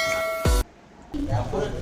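A single short bell chime rings out, then a voice begins speaking.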